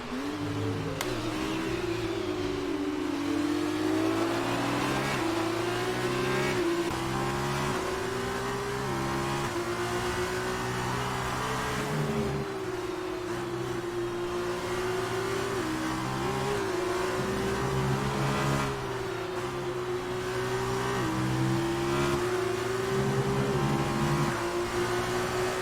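F2 race cars in the F1 2019 video game at the Austrian Grand Prix sprint race: a loud, continuous high engine whine with repeated rising and falling revs and gear shifts, heard close and alone.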